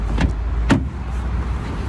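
Getting into a Renault Zoe electric car: two short, sharp transients, probably a door and handle or seat, against a steady low interior hum, with no talking.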